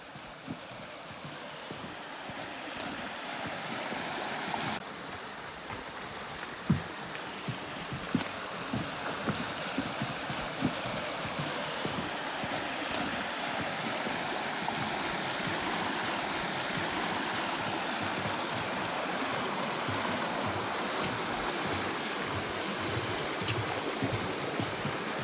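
A creek flows steadily beside the fallen steel bridge towers in a debris field at Kinzua Park, producing a loud, continuous rushing wash that fills the scene with no voices.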